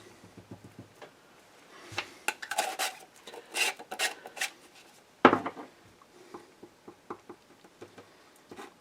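Rifle locking lugs on a Savage being lapped with gun grease and aluminum oxide grit make close, repeated gritty rasping and rubbing strokes with occasional metallic knocks.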